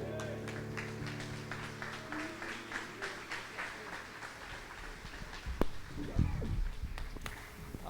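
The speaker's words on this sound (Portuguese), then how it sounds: "você pode aplaudir mais forte ao Senhor" Congregation at a Brazilian Portuguese celebration service applauding steadily and fairly far off, a dense sustained patter of hands over music, with a voice speaking partway through.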